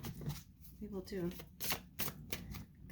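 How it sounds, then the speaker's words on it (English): Tarot deck being shuffled for a reading, a few soft riffling and flicking bursts with short pauses between, quiet and close, mixed with a person speaking. "yes, I shuffle in front of you"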